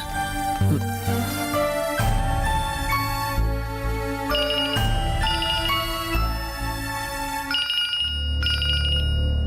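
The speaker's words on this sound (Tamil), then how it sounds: "அண்ணே அண்ணே, என்னடா உங்க போன் அடிக்குதுண்ணே" A mobile phone ringtone rings loudly and continuously in an indoor domestic scene, a repeating electronic melody of bright tones with no talking over it.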